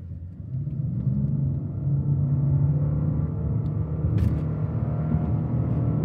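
A 420 hp hybrid four-wheel-drive Japanese car accelerating from a standstill. Heard from inside the cabin, it gives a steady low engine and road rumble that builds slightly, with no speech.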